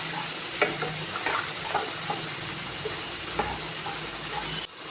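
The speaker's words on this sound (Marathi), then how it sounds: "आता त्यामध्ये मी जिरे, बारीक चिरलेला आपण कांदा घालून छान भाजून घेणार आहे।" Cumin and finely chopped onion frying in hot oil in a pan for mutton bhuna gosht, giving a steady loud sizzle with scraping stirring strokes close by and no talking.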